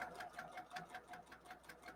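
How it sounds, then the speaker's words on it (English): A sewing machine runs at a steady even pace, its needle clicking rhythmically as it stitches quilt binding at normal stitch length; faint and alone, with no talk. "if you just pop it down to your sewing machine"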